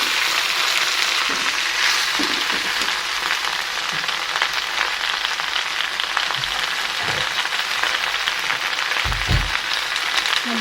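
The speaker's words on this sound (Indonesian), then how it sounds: "langsung kita taruhin daun ubinya teman-teman. Aduk-aduk lagi." Cassava leaves fry and get stirred in a pan, giving a steady broadband sizzle with occasional scraping knocks, close and continuous with no talk.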